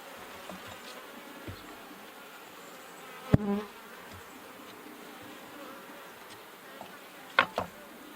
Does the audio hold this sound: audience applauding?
no